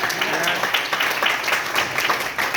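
An audience at a talk on network marketing and direct selling claps steadily, a dense, even patter of many hands that keeps going without a break throughout.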